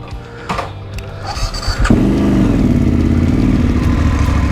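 A BMW trail motorcycle's engine clatters and catches, then settles into a loud, steady close-up running note after some handling noises and brief knocks.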